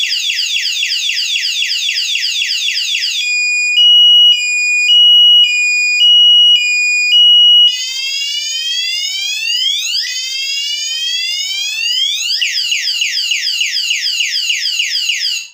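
A wireless anti-theft bicycle security alarm blares loud and close, cycling through rapid warbling chirps, four long steady beeps, then sweeping siren tones for about fifteen seconds before cutting off abruptly.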